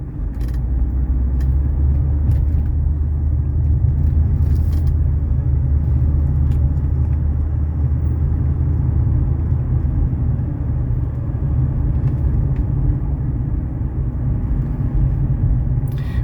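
Inside a 1991 Mercedes 300SE on a road drive past construction, a steady loud low rumble of engine and road noise holds throughout, with occasional faint clicks and creaks from the cabin.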